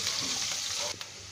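Whole spices sizzle in hot oil for urad dal tadka, a steady close frying hiss with a brief scrape of mixing near the end, no talk.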